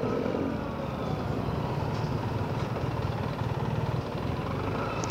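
A Vespa 946 scooter being ridden, its small engine giving a steady droning hum with road and wind noise, continuous and moderately close, no talk.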